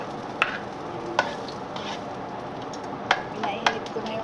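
Garlic frying in a heated kitchen pan (kawali), a steady broadband sizzle broken by a few sharp utensil clicks and scrapes, close and moderately loud.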